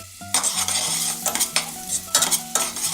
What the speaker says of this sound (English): Olive oil into a pan. Add our onions and garlic.